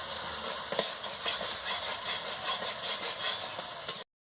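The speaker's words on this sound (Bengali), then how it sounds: "আমি ভালো করে মশলাটাকে কষিয়ে নিচ্ছি।" Chilli powder and spices being sautéed in a pan for a paneer, potato and carrot curry, a close, continuous hissing sizzle with rhythmic stirring scrapes throughout, ending abruptly.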